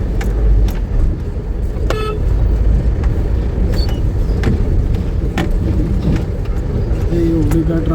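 Dense highway traffic near Panvel, with a steady roar of car and bus engines close by and brief horn toots scattered throughout, lasting the full stretch.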